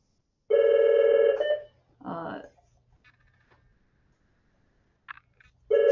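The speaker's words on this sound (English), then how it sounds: "sorry, my phone's ringing." A phone rings loudly during an online planning talk, with a steady electronic tone in two bursts separated by a short speech-like sound and a quiet gap, then starting up again at the end.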